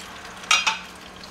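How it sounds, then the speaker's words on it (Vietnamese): Mushroom stems stir-fried in a pot on a home stove, with two quick scraping stirs over a steady low sizzle, close and alone. "Mình xào sơ nấm nè"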